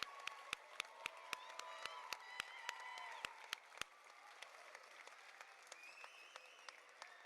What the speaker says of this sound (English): This applause is for you.